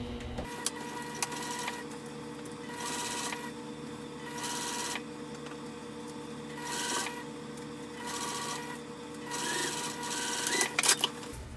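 A sewing machine top stitches a hobo bag 1/8 inch from the edge, running in several steady bursts of rapid needle rattle separated by short pauses, close and fairly quiet with no talk.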